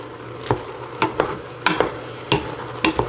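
Onions and chicken cook in a pan for grilled chicken noodle soup, with a low sizzle underneath and a series of sharp utensil scrapes and stirs at a fairly steady pace, close by and with no talking.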